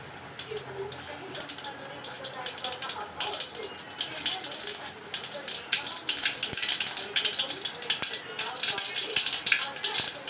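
Mustard seeds and cumin crackling in hot oil, a busy run of sharp pops and sizzling spatters close to the pan that grows louder and denser as it goes, with someone speaking over it.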